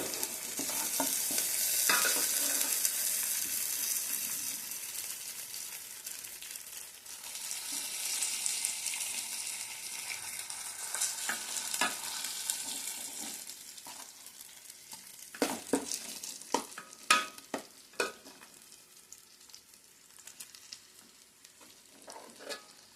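Fish pieces fry in plenty of hot oil with gravy, a steady, close hissing sizzle that swells and eases, broken near the end by sharp scraping stirs of a spatula in the pan.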